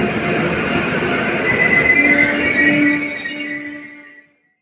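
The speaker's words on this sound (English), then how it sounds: "Let's see what happens when the driver applies the brake." A train's air brakes go on as the driver applies them, giving a steady rumbling, hissing rush with faint squealing tones that holds for a few seconds and then fades away to silence.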